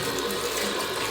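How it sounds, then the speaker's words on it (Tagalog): Grapes being washed under a running kitchen tap, a steady close rush of water splashing into the sink, unbroken and fairly loud. "Hugasan natin yung grapes."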